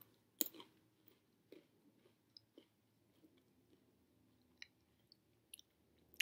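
Close, crunchy chewing of a Pejoy mint-cream cocoa biscuit, with soft irregular bites and squishy mouth clicks, quiet and without talk.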